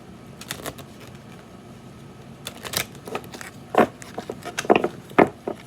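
Irregular shuffling riffles and slaps of a large tarot deck, a few sharp crisp bursts clustered toward the end, close by and fairly quiet, with no talking.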